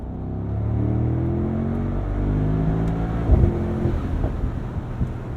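Mercedes-AMG SL 63 (2023) engine revving as it climbs through gears, with a sustained rising drone, brief dips at upshifts and a sharper blip near the end, close and loud with wind rush underneath.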